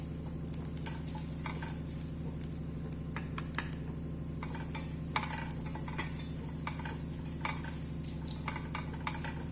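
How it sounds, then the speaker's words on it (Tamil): Coconut rice mixture with turmeric sautéed and stirred in a pan, light scraping and clicking strokes over a soft sizzle and a steady low hum, faint and close. "பச்சை வாசனை போகிற வரைக்கும் லைட்டாக வதக்கி விட்டுருங்க"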